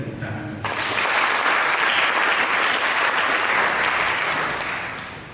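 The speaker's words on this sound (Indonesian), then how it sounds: "Mari kita tepuk tangan" A church congregation breaks into loud, sustained applause after a short moment of a voice, the dense clapping swelling and holding steady before easing slightly at the close.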